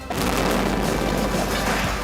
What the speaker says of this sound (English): An enormous explosion has just come down.